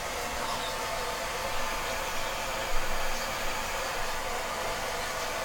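A blow dryer blasts a steady, loud hiss of air at close range while drying off a wet pet, holding an unbroken rushing tone with a brief bump in loudness partway through.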